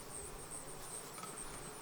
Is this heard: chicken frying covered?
no